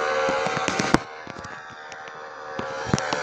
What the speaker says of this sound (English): I knew that was going to happen because I ran into so many bombs.